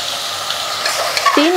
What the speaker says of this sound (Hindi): 3 मिनट हो गए हाई फ्लेम में मटन को फ्राई करते हुए।